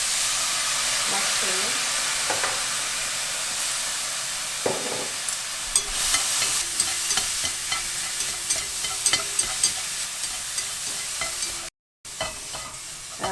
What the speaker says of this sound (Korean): 달궈진 팬에다가 먼저 북을 볶아주세요.